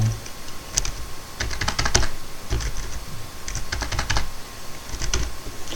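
Someone types a command on a computer keyboard: quick bursts of close, crisp key clicks with short pauses between the groups.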